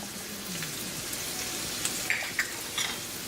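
Garlic, ginger, mustard seeds and cumin seeds sizzle steadily in hot oil in a pan, a dense close crackle with a few sharper pops near the end.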